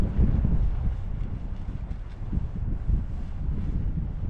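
Strong wind buffets the microphone in a continuous low roar with gusting surges, outdoors by the Columbia River and unbroken throughout.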